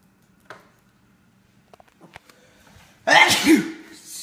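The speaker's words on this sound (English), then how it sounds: "I had to sneeze." After a few quiet clicks and rustles, one loud sneeze bursts out up close, followed by a short breathy trailing sound.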